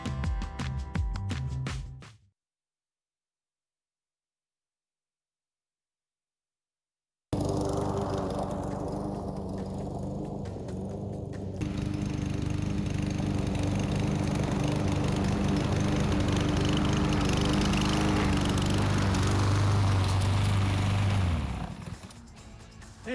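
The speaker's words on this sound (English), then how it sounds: "Just finished mowing the front lawn." A lawn mower cutting a front lawn runs as a steady, loud engine drone that cuts out into a long silence after a couple of seconds, then resumes and holds for nearly twenty seconds.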